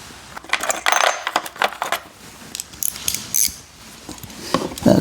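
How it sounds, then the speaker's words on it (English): Small hand ratchet tightening LED backup bulb fittings on a Lexus GX460, a close series of irregular clicking bursts and metallic rattles with short pauses between strokes. "I'll just get a little ratchet to tighten those up with"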